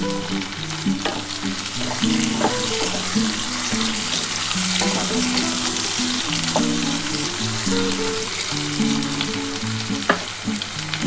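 Tomato and green chillies fry in a pan for a spicy small-fish curry, making a loud, continuous sizzle with bursts of crackling and the scrape of stirring throughout.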